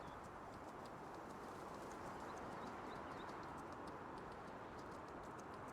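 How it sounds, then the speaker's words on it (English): Horse hooves clip-clop steadily in Farming Simulator 19 as a horse is driven around the farm, a quick even rhythm of light knocks over a constant broadband wash of ambient game noise, with no talking. "Fun driving a horse with a steering wheel."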